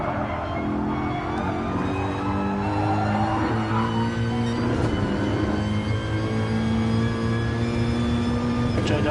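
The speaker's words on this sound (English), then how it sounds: "Sound of this AMG V8 down the rumble, just beautiful." A Mercedes-AMG V8 race car engine rumbles, a low, sustained drone with shifting harmonic tones that rise and fall as the car runs, heard under a race commentator's voice.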